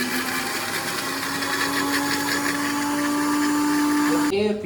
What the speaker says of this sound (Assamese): মিক্সাৰত মাৰি পেষ্ট অলপ বনাই ল'ম